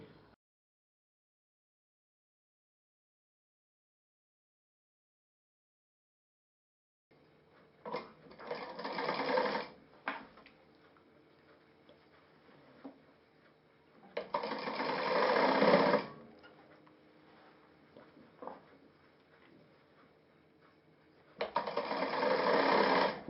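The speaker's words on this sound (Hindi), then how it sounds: "अब मैं सिलाई लगा देता हूँ।" A sewing machine stitches a sleeve seam on a check-pattern garment in three close bursts of rapid whirring, separated by pauses with light handling sounds, after a silent start.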